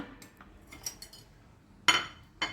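A knife cuts a block of fresh homemade milk paneer into pieces, giving a few light scattered clinks of metal against a plate or board, with two sharper taps near the end.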